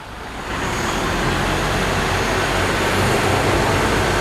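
A 2013 Ford Ranger 2.2 diesel pickup revs hard as a loud, steady, broadband engine roar that builds in the first half-second and holds close and constant.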